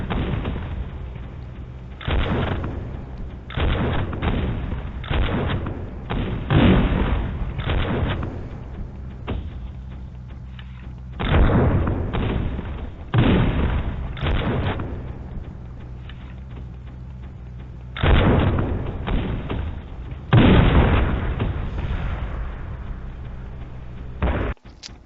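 Cannons fire repeatedly in the M.A.V. mech game, a series of heavy booming blasts in uneven clusters, some overlapping in quick bursts, over a constant mechanical rumble.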